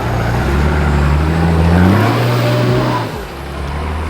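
A car climbs a steep, slippery hill track in second gear, the engine droning loudly and rising in pitch as it holds momentum, then easing off near the end.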